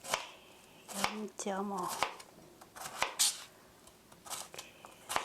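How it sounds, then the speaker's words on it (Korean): A knife chops pear on a cutting board for fried rice, a run of crisp, close knocks in an uneven rhythm with short bursts between them, while someone speaks briefly over the cutting. "썰어두시고요"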